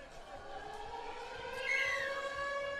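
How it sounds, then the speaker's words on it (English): A long rising and sustained siren sounds at half-time of an under-21 men's quarter-final tag football match, fairly distant and steady, swelling slightly in the second half with faint crowd noise beneath. "And there goes the siren."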